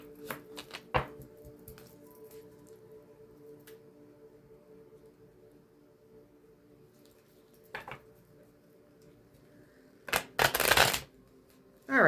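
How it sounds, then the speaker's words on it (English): Tarot cards are shuffled close by in a series of short, crisp riffles and flutters, with scattered light taps between them and a louder, rapid flurry near the end; nobody speaks. "All right, that's enough with the shuffling."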